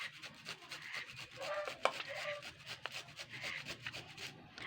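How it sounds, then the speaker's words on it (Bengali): Cauliflower rubbed against a kitchen grater in quick, rhythmic scraping strokes, close and fairly soft, with a few sharper clicks between the passes and no voices. "এবার আমি ফুলকপিটাও কিন্তু গ্রেট করে নেব সুন্দর করে।"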